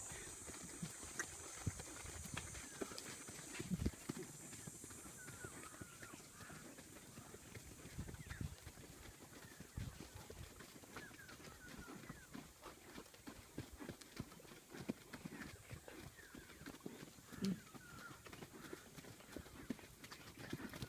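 A horse walks along a trail near Taal Volcano, its hooves clip-clopping in a steady, even rhythm, faint and fairly close, over quiet outdoor background noise.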